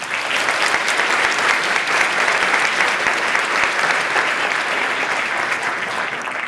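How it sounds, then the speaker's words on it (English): An event audience applauds a row of school district trustees at an MLK celebration; sustained, even clapping from a large crowd fills the whole stretch, steady and full without any voices standing out. "Please join me in applauding them"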